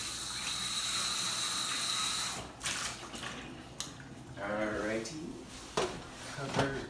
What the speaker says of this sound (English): rinse this off over here in the sink